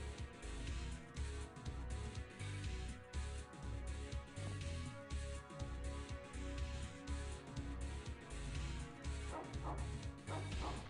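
Dog barking in the video game X-piratez: repeated loud barks and yips in a fast, regular rhythm over a crashing, cluttered game soundtrack, with no voices.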